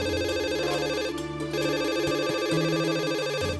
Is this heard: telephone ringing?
yes